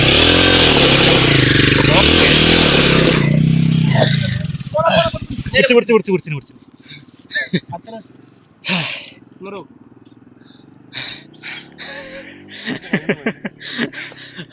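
Royal Enfield Himalayan 450 motorcycle on an off-road forest trail, its engine roaring loud and steady under throttle at first, then fading to intermittent bursts as people talk nearby.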